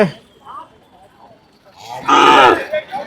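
A Bargur hill cow at the crowded Anthiyur cattle market lets out a loud, drawn-out moo close by, with a shorter low call before it and faint market chatter around.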